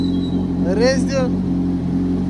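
A Kawasaki Z800 motorcycle engine idles steadily and then blips up in two quick revs that rise and fall, loud and close, before settling back to a low idle.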